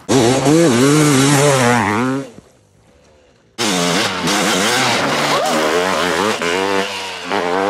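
A two-stroke motocross bike revs hard at full throttle with its rear tire spinning, a loud, raspy rising and falling engine wail that cuts out briefly and then roars back, close up.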